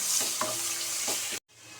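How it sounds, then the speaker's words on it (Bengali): Sliced onions fry in hot oil in a pan for a prawn dopiaza, giving a continuous bright sizzle with a few soft scrapes of stirring, close and steady, before cutting off briefly near the end. "পেঁয়াজটা একটু ভাজা ভাজা করে নিতে হবে।"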